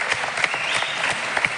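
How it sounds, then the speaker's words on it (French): Audience applause after a speed-climbing interview, a short stretch of scattered clapping with a few sharper individual claps standing out. "on peut applaudir quand même"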